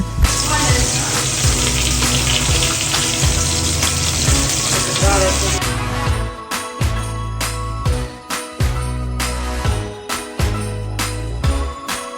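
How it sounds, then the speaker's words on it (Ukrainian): Spinach fries loudly in hot oil with a dense, steady sizzle, then crackling continues with rhythmic clattering and bursts as it is stirred in the pan. "І на цілу сковорідку в цю олію викладаєте шпинат."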